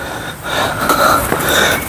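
Heavy, breathy panting close by on a hike to waterfalls, a few labored breaths in quick succession with no talking.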